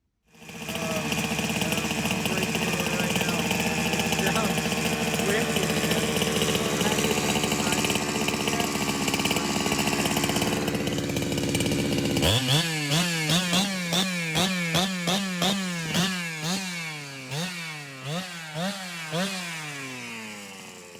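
A chainsaw engine runs at a steady, loud drone, then revs repeatedly in sharp bursts, each throttle blip rising and falling in quick succession.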